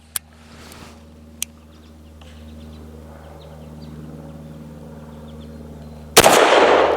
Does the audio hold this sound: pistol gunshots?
yes